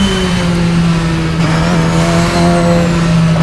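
A Radical SR10 XXR race car driven hard in a racing sim screams at high revs, its engine note holding steady and loud with a slight pitch shift, close and alone without speech.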